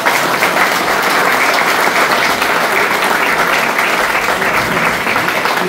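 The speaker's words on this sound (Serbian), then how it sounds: "molim vas još jedan aplauz" A crowd at an outdoor political rally in Banja Luka breaks into sustained applause, dense and loud, holding evenly for several seconds.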